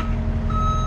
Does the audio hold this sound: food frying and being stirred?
no